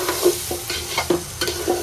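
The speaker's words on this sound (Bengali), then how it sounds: "এখন চাউলটা ভালোভাবে ভেজে নেব" Rice frying in a pot for mutton biryani, with a steady sizzle broken by repeated scraping stirs of a spoon against the pot, close and fairly loud, with no voices.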